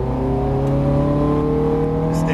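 A Ferrari accelerates on a race track at high speed, its engine a loud, steady, close drone with strong tonal harmonics that climb slightly as the revs build, heard alone with no voices.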